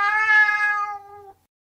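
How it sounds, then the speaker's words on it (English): A single clear cat meow, bright and tonal, lasting just over a second before cutting off into silence. "This is a cat."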